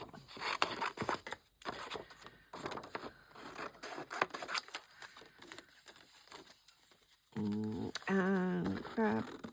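Scissors snip through paper card in a crafting session, a run of short, close crisp cuts and rustles with a few gaps, then a louder patch of other sound near the end.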